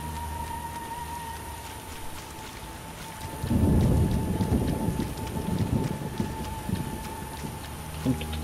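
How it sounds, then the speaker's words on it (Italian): A thunderstorm with rain in The Witcher video game: steady rainfall under a constant tonal hum, then a loud rolling thunder rumble swells partway through and slowly fades back into the rain. "Il druido ci ha dato la nostra bella tempesta."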